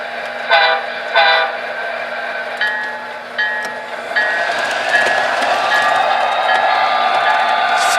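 Train rolling across the Ohio River High Bridge on a line running between Cincinnati and Louisville, a steady loud rumble with bright metallic squeals and a few short pulsing tones early on, continuous and close, with no talk.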